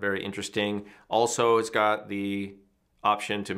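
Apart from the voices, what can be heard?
No distinct noise like a dog, phone or traffic.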